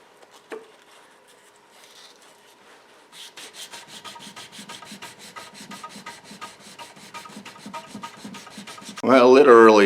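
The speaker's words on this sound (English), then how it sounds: "Alright, back to sanding." A forged Damascus steel knife blade is hand-sanded in rapid, rhythmic back-and-forth rasping strokes, close and steady, after a few quiet seconds. Music cuts in loudly at the end.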